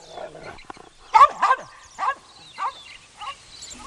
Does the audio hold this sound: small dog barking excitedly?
yes